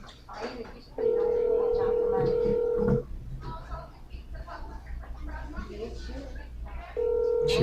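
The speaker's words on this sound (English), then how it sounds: "Let me see if I can get her on the phone." Telephone dialing and ringing on a call, with long steady ringback tones at the start and again near the end, and speech and background noise in between.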